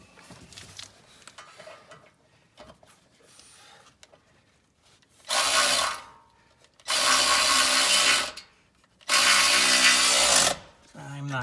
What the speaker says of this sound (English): power ratchet and just zip them up?